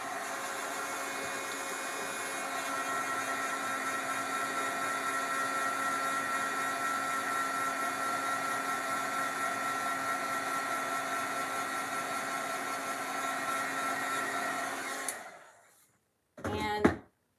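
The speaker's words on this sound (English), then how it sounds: "All right, I'm gonna grab my heat gun. Excuse the noise for a second, and we'll quickly heat set this." A heat gun blows steadily and loudly for about fifteen seconds while heat-setting embossing powder on a watercolor shaker card, a continuous broadband whir that cuts off near the end, followed by a brief handling noise.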